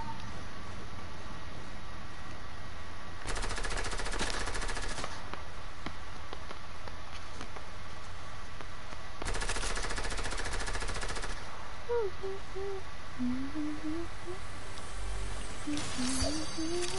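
Rapid automatic gunfire in Fortnite: two sustained bursts, each lasting a couple of seconds, over steady game noise, with short chirping tones near the end.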